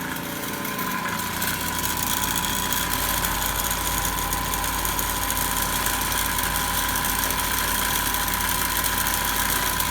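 A DC motor runs steadily during a lab speed-control test at around 1720 rpm, a constant even hum with a fixed whine and no change in pitch or level.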